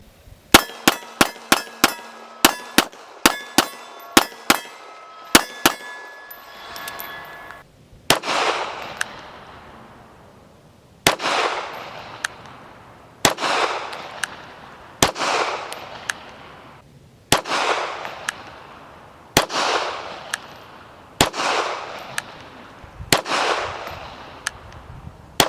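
A Canik TP9 SFL long slide pistol firing 9mm 115 grain full metal jacket rounds at a range: a fast burst of sharp shots, then a steady series of single loud cracks with ringing echoes about every two seconds.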